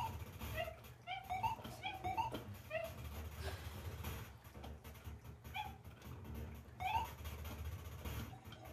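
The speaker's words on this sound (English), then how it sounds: "Oh, the dogs again. I like the dogs." Chiptune-style dogs from the arcade game Alley Cat, a run of short, high electronic yips and barks in a quick cluster, then a pause, then a few more, over a low steady game hum.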